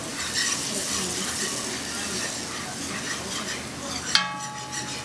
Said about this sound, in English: the one thing with roux is that you want to give it a constant stir